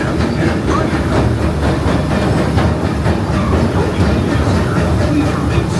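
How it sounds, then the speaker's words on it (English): The Disneyland Railroad train rolls along the rails near New Orleans Square, slowing toward a stop, with a steady rumble and rhythmic clacking of wheels, loud and close, with no clear sign of braking. "Please remain seated until the train comes to a complete stop."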